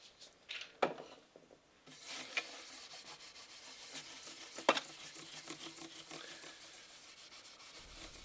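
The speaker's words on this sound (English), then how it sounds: "by rubbing this oil in vigorously and heating up, using the friction from your hand, heating up that fretboard" A hand rubs oil vigorously into the wooden fretboard of a cheap bass guitar, making a soft, continuous swishing friction with a couple of sharper knocks, close and quiet.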